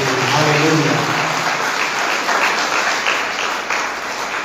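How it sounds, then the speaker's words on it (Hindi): A church congregation at a Sunday service clapping hands together, a dense, loud, sustained wash of applause following a preacher's voice at the start. "ताली बजा के"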